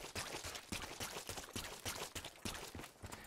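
Heavy, loud footsteps in Black Ops 3 from a player just out of water, a quick steady run of wet, splashy steps at close range with no talk.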